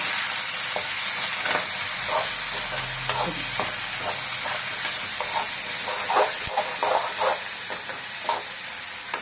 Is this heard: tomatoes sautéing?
yes